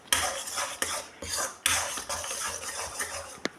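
A spoon stirs thickening rusk halwa in a pan, giving repeated scraping strokes with metallic clinks in an uneven rhythm. The sound is close and moderately loud, with no talking.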